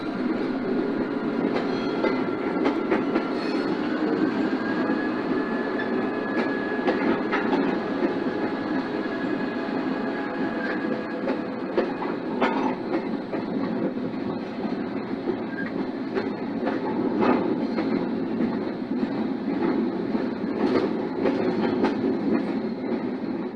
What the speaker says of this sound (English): Here's a short train full of loaded hoppers being powered by a GP9 still in its Pennsylvania Railroad